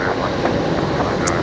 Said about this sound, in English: The Saab making a bit of a racket just below me here